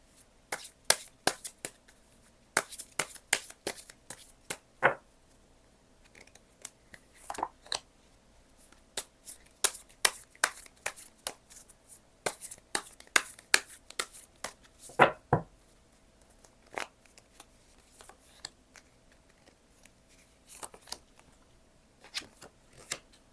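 Tarot cards being shuffled and drawn from the deck, with quick bursts of crisp slaps and riffles, short pauses between clusters, close and fairly quiet.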